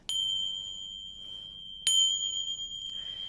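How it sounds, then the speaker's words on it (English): Two bright, sustained metallic rings from finger cymbals struck edge to crown, each sharp strike about two seconds apart followed by a long, clear ringing decay in a quiet room. "proper way to play finger cymbals is to hold one with it parallel to the floor and hold the other one this way."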